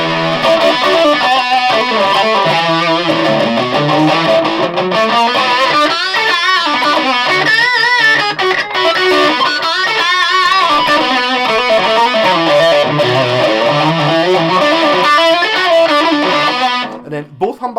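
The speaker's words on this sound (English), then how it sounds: "So we put on a bit of distortion." Fender Player Series Stratocaster electric guitar played through distortion, a dense, sustained overdriven tone with shifting chords and melodic bends, loud and continuous for most of the stretch before cutting off near the end.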